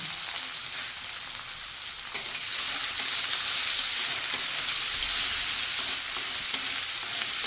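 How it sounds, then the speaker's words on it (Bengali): Chopped onions frying in hot mustard oil, a steady, close, bright sizzle that crackles evenly throughout, with a few soft stirring knocks and no voices. "গরম তেলের মধ্যে এখন দিয়ে দেবো 1 বাটি পেঁয়াজ কুচি"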